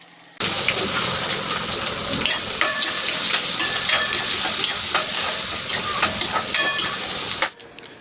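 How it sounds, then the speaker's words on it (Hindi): Onion, green chili and curry leaves frying in hot oil, a loud steady sizzle that starts abruptly and crackles with sharp pops while being stirred, then cuts off at the end. "अब अपने कड़ी पत्ता, हरी मिर्च और प्याज, इन तीनों को डाल दूंगी, और अच्छे से इसे हम भून लेंगे"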